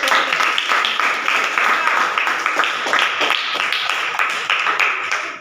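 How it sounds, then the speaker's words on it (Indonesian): A classroom audience applauds a student group, with steady, fairly loud clapping from many hands that keeps going throughout with only small swells. "Oke, kita berikan aplaus."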